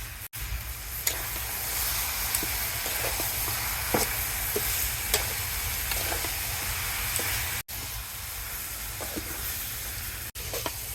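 Cabbage cooks in a wok over a clay stove, a steady close sizzle and hiss with scattered soft clicks and spatters, dropping out briefly in a few short gaps.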